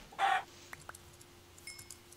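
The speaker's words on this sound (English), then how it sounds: "Oh, hello, Mr. Chicken." A chicken in a blocky Minecraft-style video game gives one short, clear cluck, followed by a few faint clicks and quiet game ambience.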